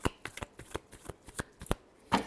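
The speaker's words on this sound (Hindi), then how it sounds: "last shuffle" Tarot cards being shuffled in a quick, uneven run of crisp riffling snaps, close and fairly quiet with no talking.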